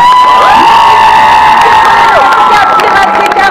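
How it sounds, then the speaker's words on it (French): A crowd at a film presentation event cheering, whooping and applauding loudly, with high excited voices sustained throughout. "On peut encore les applaudir très fort."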